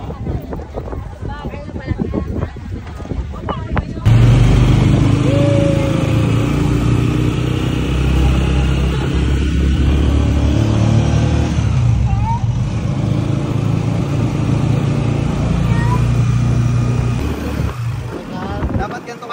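Motorized tricycle engine droning loud and steady on a road in Boracay, with wind buffeting the microphone and people talking over the motor.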